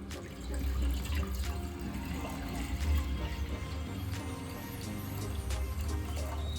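One litre of water is poured into a cooking pot for bone soup with mutton, a close, steady splashing and running sound that lasts several seconds without speech.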